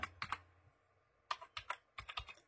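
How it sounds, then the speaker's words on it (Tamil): Light, crisp clicks of a computer keyboard as a PAN card number is typed, coming in short clustered bursts with a pause in the middle, quiet and close with no voices. "உங்களுடைய பேன் கார்டு நம்பரை கரெக்டாக வந்து பார்த்து டைப் பண்ணிக்கோங்க."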